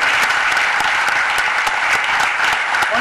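A theatre audience at a tango concert claps loudly and continuously, a dense wash of applause with some sharper individual claps standing out, no voices over it.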